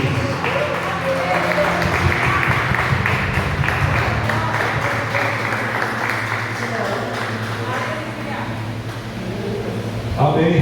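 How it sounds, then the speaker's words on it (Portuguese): A church audience gives Jesus a sustained round of applause, dense clapping filling the room steadily for about ten seconds over a faint low hum. "uma salva de palmas bem gostosa para Jesus"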